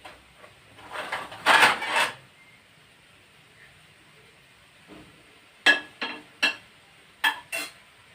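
A spoon scrapes and clinks against a pan of snacks frying on medium heat, a cluster of stirring scrapes at first, then sharp separate knocks after a quiet pause, close and clear with no talk.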